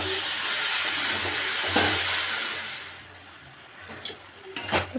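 Boiled fig, potato and papaya hit spiced oil in a pan, a broad steamy sizzle that fades after a few seconds, followed by several short scraping and clattering utensil sounds.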